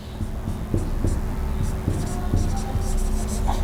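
Pen or chalk writing out a definition by hand during a discrete mathematics lesson, irregular scratchy strokes close by over a faint steady hum, with no speech.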